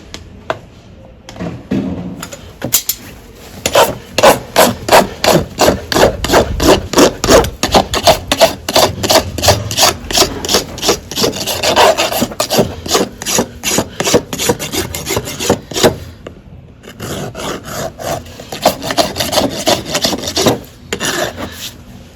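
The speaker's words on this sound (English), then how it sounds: "Every time we're shoeing him, we don't want over rasp feet." A farrier rasps a horse's hoof with long, rhythmic strokes, loud and close, in steady bursts that pause briefly before resuming.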